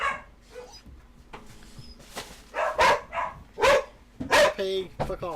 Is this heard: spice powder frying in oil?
no